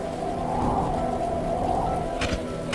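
Rain falling in an animated children's cartoon, a steady moderate patter with a continuous hiss and a few sharper drop clicks near the end.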